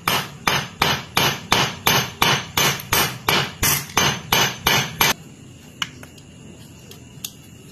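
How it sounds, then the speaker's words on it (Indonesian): A small hammer taps a rubber clutch damper into a Honda CB series motorcycle clutch, using a Yamaha Vixion part as a substitute. About fourteen sharp, evenly spaced metallic knocks ring out close up, followed by a few faint, scattered clicks. "jangan pakai palu gede, pakai palu yang kecil"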